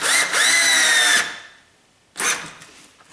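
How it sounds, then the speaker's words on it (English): A power drill, held at an angle, drives a screw through a pre-drilled hole into a wall stud while installing a grab bar: one loud burst of about a second with falling pitch, a pause, then a brief second whir. "See, I'm just holding my drill at the angle."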